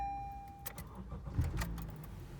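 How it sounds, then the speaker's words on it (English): A 2013 Honda Accord with about 120,000 miles starts up: a short cranking burst catches into a low engine rumble, heard close and alone within a couple of seconds. "When I start the car"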